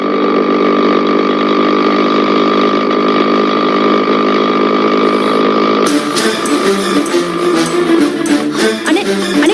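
A motorbike engine runs steadily with a buzzing, chainsaw-like drone for several seconds, then the sound turns rougher and choppier with clattering bursts toward the end, close and loud.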